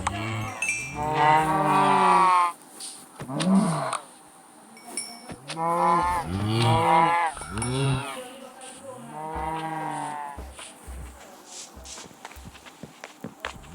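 Cows in the video game Minecraft moo several times in loud, drawn-out calls, with soft blocky footsteps tapping between them and no talking.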